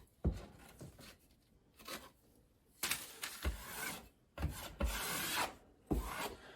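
Utility knife sliding along a painted wall to trim excess material during a tile backsplash repair, giving several short scraping, rasping strokes with pauses between them, close and fairly quiet.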